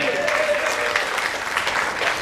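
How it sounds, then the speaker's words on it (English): An audience applauds in a theater aboard the Carnival Legend cruise ship, a dense wash of clapping throughout the short stretch. "So let's give Becky a big round of applause tonight"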